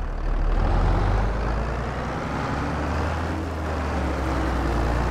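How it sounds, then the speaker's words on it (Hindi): A tractor engine in Farming Simulator 22 on a Toscana farm holds a loud, steady low drone with a rough rumble that dips slightly midway and then carries on evenly, with no speech. "इस ट्रैक्टर को हटा देता हूँ, उसकी जगह बड़े वाला ट्रैक्टर ले आता हूँ।"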